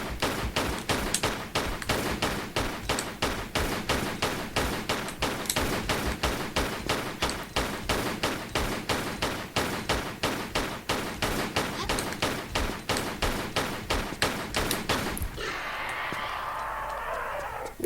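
Rapid sustained gunfire in a Tomb Raider fan-made level, loud evenly spaced shots going on for about fifteen seconds against a monster, then breaking off into a softer roaring wash.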